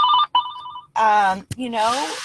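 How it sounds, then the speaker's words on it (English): A phone rings close by in bursts of bright repeating tones, with brief pauses between them. A person talks over part of the ringing. "Sorry, my phone's ringing."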